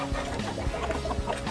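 Soft clucking from chickens on a farm, a few short low calls over a busy background murmur, faint and moderately distant.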